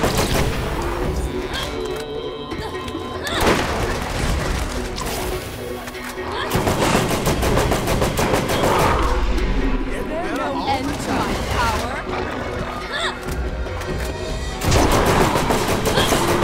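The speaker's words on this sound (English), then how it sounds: "This mini shotgun's actually doing a good job." Mini shotgun blasts and other weapon fire from the game Borderlands ring out in repeated bursts amid chaotic combat noise, with excited talk over much of the clip.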